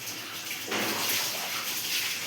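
Water dabbed onto a jowar roti on a hot griddle, North Karnataka style, gives a steady close hiss that swells into a louder sizzle partway through.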